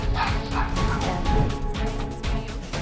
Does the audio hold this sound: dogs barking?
yes